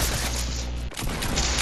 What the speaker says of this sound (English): Hit a shotgun.